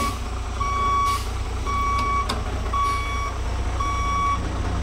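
A Class B truck backs up during CDL skills training, its reversing alarm sounding four steady, evenly spaced beeps, nearby and clear over a low, continuous diesel engine rumble.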